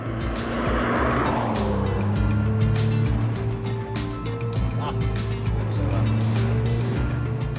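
A Lotus Esprit S3 sports car engine rumbles loudly and close, its pitch rising and falling as it revs and shifts through gears.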